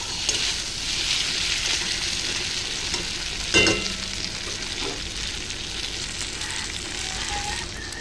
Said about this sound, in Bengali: সর্ষে বাটাটা দিয়ে ভালো করে কষিয়ে নেব।